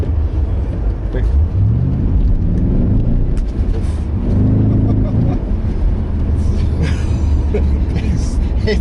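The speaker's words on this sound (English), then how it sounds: "Love the sound of the exhaust as well." The engine and exhaust of a 2006 Pontiac GTO, driven on a wet road, give a steady, deep rumble that swells and revs, heard close from inside under people talking.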